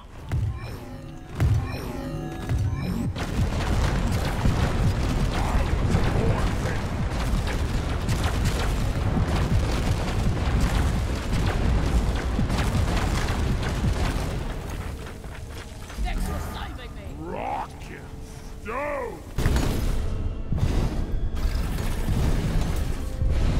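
Bombs explode in a video game, with a burst of sharp bangs at the start and then dense, rumbling booms and mechanical clatter sustained loudly for most of the stretch, with talk mixed in.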